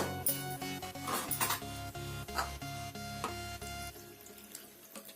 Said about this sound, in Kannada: ಒಂದು ಕಾಲು ಭಾಗದಷ್ಟು ಬಿಸಿನೀರು ಹಾಕೊಳ್ತಾ ಇದ್ದೀನಿ